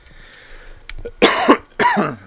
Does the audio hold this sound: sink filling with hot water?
no